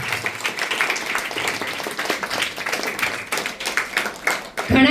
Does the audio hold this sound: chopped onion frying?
no